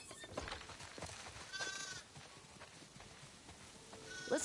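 Sheep in The Last of Us Part II bleat amid farm ambience, with a few soft hoof-like clops and a louder bleat near the end; no speech.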